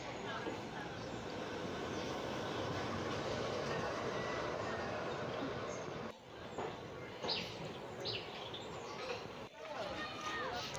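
A train pulling into Badarghat station in Agartala, a dense continuous rumble and rattle of carriages heard from on board, with brief dips and faint clicks of wheels on track near the end.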